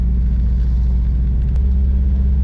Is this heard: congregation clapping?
no